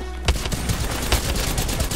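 Rapid gunfire bursts from the battle royale video game Apex Legends, a dense barrage of close, loud shots with sharp transients that repeat across the brief moment, with no talk over them.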